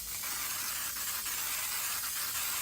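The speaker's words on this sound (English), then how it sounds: "So a little bit of spray glue on the back." Spray glue hisses from an aerosol can in a steady, fairly soft airy rush that lasts throughout, with no voices.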